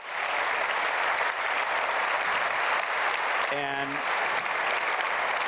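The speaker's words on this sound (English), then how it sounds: "Please give him a round of applause." An audience at a live lecture event with an astronaut broadcasting from the ISS claps in dense, steady applause that fills the whole stretch, with a brief spoken word heard over it.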